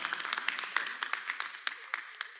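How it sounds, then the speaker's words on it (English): A few people clap faintly during an online education session, a thin, scattered run of about a dozen separate claps over a couple of seconds. "Let's give applause."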